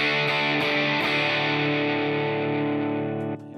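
An electric guitar plays through a white boost pedal with a boosted, slightly gritty tone: a few strummed chords sustain thickly before cutting off near the end.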